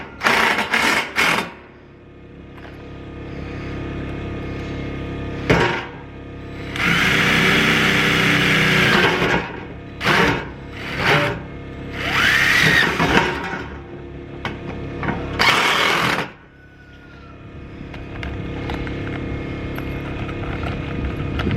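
A power drill drives screws into siding boards on a garden raised bed, with several loud whirring bursts of varying length separated by short pauses, close by.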